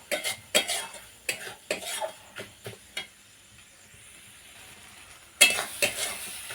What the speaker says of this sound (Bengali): এখন আমি এই মশলাটা বেশ কিছুক্ষণ কষিয়ে নেব যাতে আদা রসুনের কাঁচা গন্ধটা চলে যায়